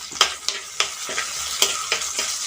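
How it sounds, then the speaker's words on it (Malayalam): Crushed ginger, garlic and slit green chillies fry in hot oil for a fish curry. A steady sizzle runs throughout, broken by repeated close stirring taps and scrapes, with no voices. "ഇഞ്ചിയും വെളുത്തുള്ളിയൊക്കെ നന്നായിട്ട് മൂത്ത് വന്നിട്ടുണ്ട്"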